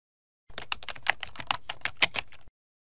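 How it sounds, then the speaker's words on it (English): Typing on a computer keyboard: about two seconds of quick, irregular key clicks, close and crisp, with no other sound around them. "A set of letter and number buttons which allows you to input words and commands into the computer."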